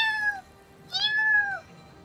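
A human voice imitates a cat with two clear, close meows, a short one and then a longer drawn-out one, with quiet pauses around them.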